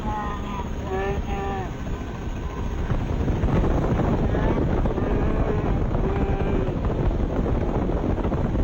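A helicopter in flight gives a loud steady rotor and engine roar buffeted by heavy wind noise on the microphone, with a few distant voices shouting over it early on.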